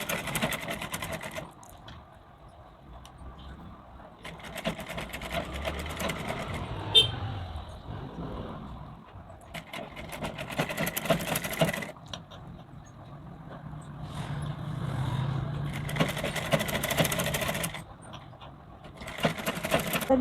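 A sewing machine stitches a lined blouse in several loud runs of rapid mechanical chatter, separated by short pauses, close to the listener and with no voices.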